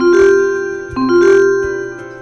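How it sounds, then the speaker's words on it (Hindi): A Porter app alert for a new booking rings loudly on a mobile phone as a bright, melodic electronic chime, with the same short tune played twice in a row. "पोर्टर ऐप में जब आपको भाड़ा आता है तो इस तरह से आपके मोबाइल में घंटी बजती है"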